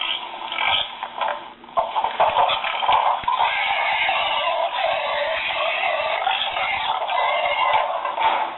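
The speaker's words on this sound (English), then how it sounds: "Boy, those pigs are noisy." Sound effect from a model railroad hog car: pigs squeal, grunt and snort continuously and loudly, with a band-limited, tinny tone.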